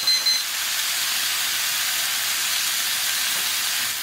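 A steak sears over low heat in a frying pan, giving off a steady, even, close hiss with no voices.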